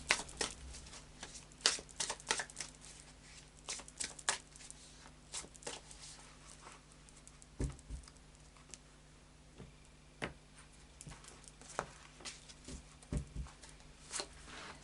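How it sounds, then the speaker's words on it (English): Soft, irregular riffling and tapping of tarot cards being shuffled, close and fairly quiet, in short bursts with brief pauses. "And a final shuffle of the Anarchy Tarot for you."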